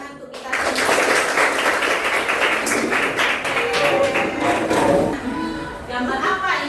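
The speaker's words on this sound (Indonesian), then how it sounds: "tepuk tangan untuk kita semua" A classroom of students claps together in a dense burst of applause lasting several seconds before it fades, with voices faintly present.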